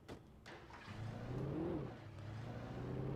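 A car engine in the video game Alan Wake hums steadily with a low drone that rises in a brief rev and then settles, moderately close and fairly quiet, with no talking.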